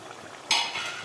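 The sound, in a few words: chicken frying with masala for dum biryani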